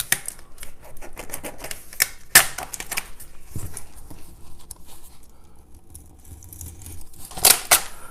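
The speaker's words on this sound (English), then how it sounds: "I'm going to cut right there." A blade cuts architectural vinyl film on a kitchen countertop, making close crisp scratching and tearing with sharp clicks and crinkles in irregular bursts.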